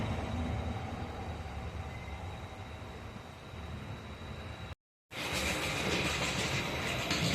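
A small 009 narrow-gauge model locomotive pulling two high-sided wagons hums and rattles quietly along the track, a soft steady rolling noise broken by a brief dropout before it resumes a little louder.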